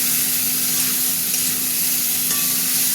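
Prawns, tomato and onion sizzle steadily in hot oil in a pan for a Bengali potol-and-prawn curry, a continuous close, even frying hiss with faint stirring and no talk.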